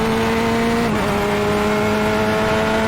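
A car engine in iRacing drones steadily as an LMP prototype race car closes from behind a Corvette C8.R at Long Beach; the pitch dips briefly partway through, then holds a loud continuous whine with no talk.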